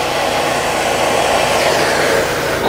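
Heat gun warming the case of a 22SI alternator during a rebuild, a loud steady blowing roar held close and unbroken throughout.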